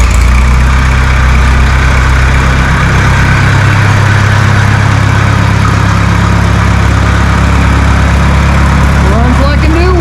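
An Oliver Super 55 tractor engine idles steadily right after starting, a loud, close, low rumbling drone that holds unbroken for the whole stretch.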